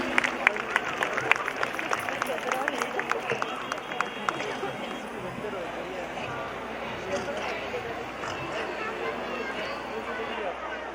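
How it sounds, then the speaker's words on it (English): An audience applauds at the Indra Academy Senior Secondary School annual function, with dense, crisp clapping strongest at the start before settling into a softer crowd wash while a voice speaks over it. "Give a huge round of applause, ladies and gentlemen."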